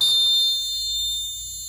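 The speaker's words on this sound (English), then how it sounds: "alarm continuously on" An electronic alarm on a DIY short circuit indicator school project sounds continuously as a steady high-pitched tone, loud at first and easing slightly, alone with no talk.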